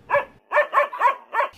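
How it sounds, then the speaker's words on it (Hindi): A dog barks at night in five quick, close, medium-pitched yaps with brief gaps between them, clear and alone without any talking. "अमेरिका में जब रात को कुत्ता भौंकता है"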